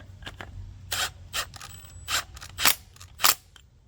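Impact wrench tightening a fastener on a Clinton small engine, giving about five short, sharp rattling bursts at irregular intervals over a quiet background hum.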